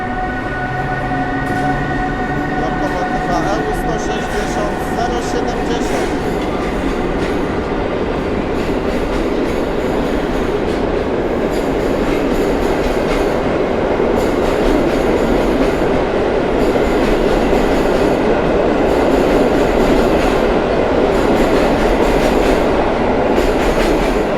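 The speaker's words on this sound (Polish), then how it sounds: "rusza opóźniony pociąg TLK Lubomirski ze Szczecina do Zakopanego." A delayed TLK passenger train departing and rolling along, a loud, continuous rail rumble with clattering wheels and faint squealing and tonal whine, steady throughout and close to the listener.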